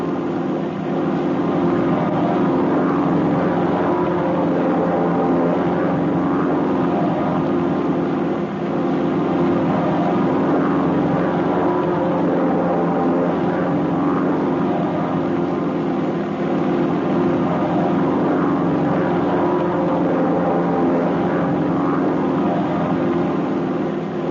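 Propeller-driven training planes flying in formation, a loud, steady engine drone with a constant hum that holds evenly throughout, with no voices.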